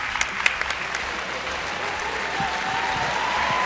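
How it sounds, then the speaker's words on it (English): Audience applause after a panel on women-owned businesses, a few sharp claps at first that swell into a sustained, fairly loud wash of clapping from the crowd. "Give them a great round of applause."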